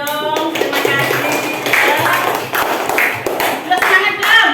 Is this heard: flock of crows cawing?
no